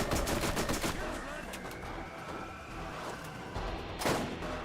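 Sustained gunfire in Borderlands rattles in quick repeated bursts, loudest at the start and again near the end, with a voice talking faintly beneath the shooting.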